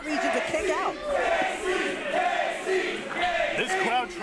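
Wrestling crowd at a title match, a dense continuous roar of cheering and chanting with rhythmic stomping and clapping mixed in, loud and steady throughout.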